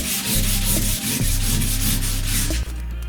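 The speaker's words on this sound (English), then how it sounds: "Orbital sanders are a great help doing this type of work" Orbital sander working a car body panel down to bare metal, a continuous close rasping whir with a brief dip partway through.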